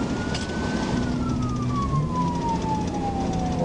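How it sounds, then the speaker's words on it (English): A police car siren wails steadily during a pursuit on a highway, its tone gliding slowly downward as it holds clear above continuous road and engine noise, with no talking. "I'm 10 feet behind with my siren on"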